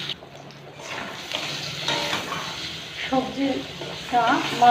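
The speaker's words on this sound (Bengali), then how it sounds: "মাছ ভাজার পরে যে কলাটা ভেজে নিচ্ছি" Pieces of banana fry in oil left over from frying fish, with a continuous sizzle and occasional stirring, while a voice murmurs faintly underneath.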